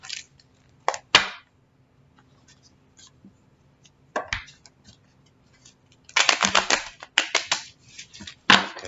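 Crisp riffling and snapping bursts of a card deck being shuffled, a few short bursts early, then a denser flurry later, close and fairly quiet.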